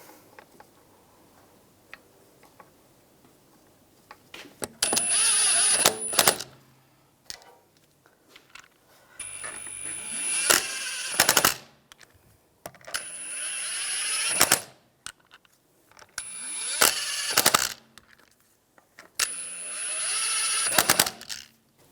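An impact wrench runs on the rear wheel bolts of a 2001–2006 BMW 325Xi during a brake job, in several loud, rattling bursts of a second or two each, separated by quiet pauses with faint clinks.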